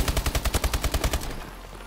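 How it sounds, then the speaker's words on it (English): A rapid burst of about fourteen loud, evenly spaced automatic shots from an MP40 submachine gun in a shooter video game, close and punchy before cutting off into a faint tail. "Oh, I heard some shooting."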